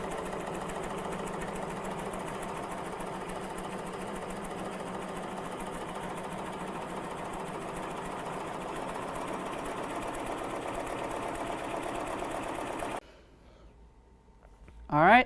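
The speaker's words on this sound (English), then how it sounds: "now it's actually going to start doing the full embroidery" Embroidery machine stitching 3D puff embroidery on a hat held in a cap driver, a steady loud mechanical whirring and rapid stitching drone that runs unbroken for about thirteen seconds, then cuts off abruptly.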